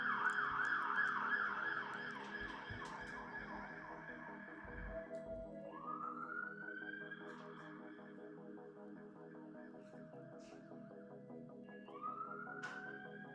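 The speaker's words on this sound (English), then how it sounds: "Hold on, guys. Siren." An emergency vehicle siren wails outside, loud and rising then fading as it passes, its sweeping tone repeating over steady traffic rumble with no talk.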